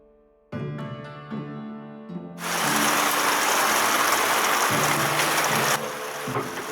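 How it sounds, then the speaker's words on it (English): Heavy rain pours down outdoors during a hunting trip in a dense, steady hiss that suddenly swells and then eases slightly, with a few louder tonal sounds early on. "The rain came in and it came in heavy"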